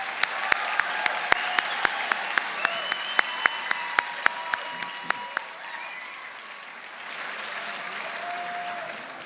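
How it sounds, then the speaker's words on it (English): Convocation audience applauding graduates of the class of 2024, crowd clapping with distinct sharp claps recurring through the first half, then settling into a softer, even wash of applause as it fades slightly near the end. "How about one more round of applause just to show."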